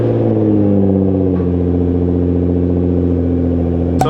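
A Nissan GT-R with Boost Logic midpipes at cold start, holding a steady, loud, droning idle with a deep exhaust hum throughout, no speech.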